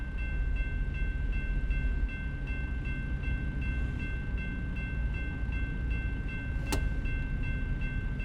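A train passes at a crossing in American Truck Simulator, a continuous rolling rumble of rail cars with a steady horn tone throughout and a brief sharp clank near the end, no voices.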